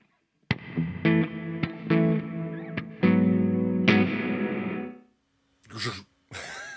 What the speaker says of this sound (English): That's now gated reverb.